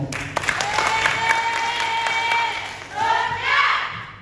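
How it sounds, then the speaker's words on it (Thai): A crowd at an award ceremony applauds steadily throughout, a dense wash of clapping that swells again near the end, with faint voices mixed in. "ขอเสียงประมือให้กับท่านร้อยตำรวจเอกฉลองยิ่งมากนะ"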